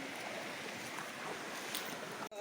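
Water rushes continuously at the Vangani waterfall, a broad, steady outdoor roar with a faint gust of wind and a brief thump near the end.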